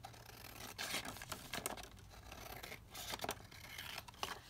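Scissors snip steadily through a paper junk journal page, a close series of dry cuts and crisp rustling with short pauses between strokes, no voice heard.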